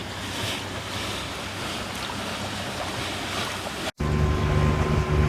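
A boat engine near full throttle drones steadily under heavy wind and rushing water, loud and continuous, cutting briefly before resuming with a deeper hum.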